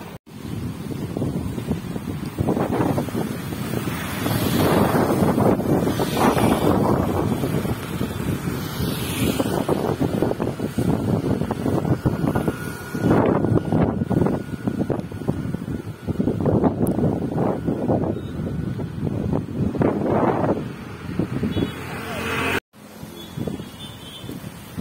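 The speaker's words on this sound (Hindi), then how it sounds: "बहुत तेज हवा में छतरी भी नहीं रुक रही है, देखो।" Strong wind during a flood in Gujarat roars and buffets hard against the microphone in continuous loud gusts, with rushing noise that rises and falls across the whole clip.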